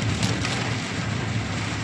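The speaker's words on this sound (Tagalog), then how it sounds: "Grabe ang ulan amigo." Heavy rain pours steadily during an evening road trip, a dense, loud, continuous hiss with no break from start to finish.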